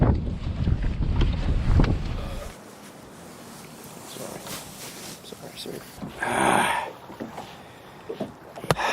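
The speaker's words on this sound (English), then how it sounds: "It's pretty damn tough with the wind." Winter wind gusting over a fishing boat on open water, buffeting the microphone in heavy rumbling bursts early on that ease to a steadier rush with another strong gust later.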